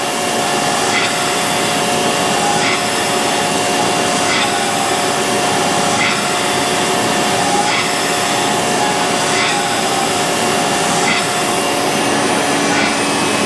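A grinding wheel grinds the fuel pump cam lobe on a Gen 5 L8T engine camshaft, giving a loud, steady, unbroken grinding whine with faint regular pulses, and no talking.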